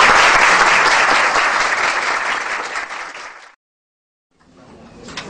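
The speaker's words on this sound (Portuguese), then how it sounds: "Queria pedir uma salva de palmas." Conference audience applauding at a psychology session in Brazil, a dense, loud burst of clapping that fades, breaks off into brief silence, then resumes more softly.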